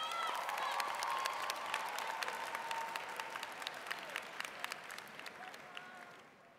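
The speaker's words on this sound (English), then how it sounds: "I would like to ask you all to give yourselves a round of applause." A graduation audience for the class of 2019 applauds steadily, a dense field of many hands clapping that slowly thins and fades toward the end.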